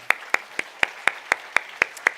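A church congregation claps at an Easter youth service, about ten sharp, evenly spaced claps in a slow unified rhythm, close and distinct with no talk over them.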